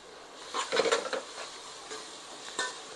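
Egg rice roasting in a pan while a spoon stirs and scrapes it, giving short clattering bursts over a soft steady sizzle, close and moderately loud, with no voices.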